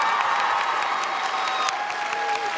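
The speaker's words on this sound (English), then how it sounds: "Clap again." An audience applauds in a continuous dense wash of clapping, moderately loud and steady throughout with no talk over it.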